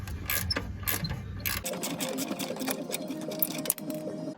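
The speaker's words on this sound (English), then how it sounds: "especially a ratcheting wrench, makes it a little easier to get the nuts completely off" A ratcheting wrench clicks quickly as it loosens the catalytic converter nuts on a 2.2L Chevy HHR, a close, quiet run of rapid mechanical ticks with a short buzzing burst at the start.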